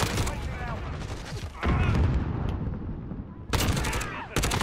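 Shotgun gunfire in a video game, heavy bursts of loud blasts clustered near the start, middle and end, under a busy mix of other game sounds.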